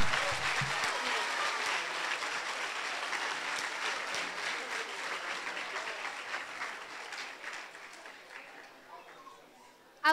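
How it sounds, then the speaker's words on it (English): Dense audience applause fills a school renaming ceremony at Northside Primary School, steady and sustained for about ten seconds before gradually thinning out toward the end. "another round of applause for them"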